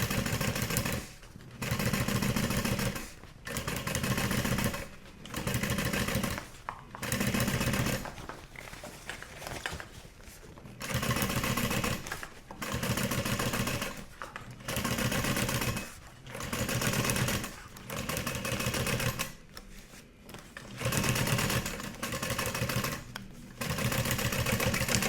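A sewing machine top stitches along the edge of a duffel bag in repeated bursts of rapid mechanical whirring, each a second or two long and separated by short pauses, close and loud with no speech.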